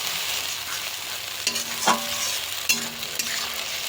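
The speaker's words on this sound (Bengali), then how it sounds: "তারপর মশলাটাকে ভালো মতন কষিয়ে নেব।" Onion, ginger, garlic and chilli masala paste stir-fried in a pan for a chicken curry, a steady soft sizzle broken by a few sharp scrapes and clinks of the spoon, with no voices.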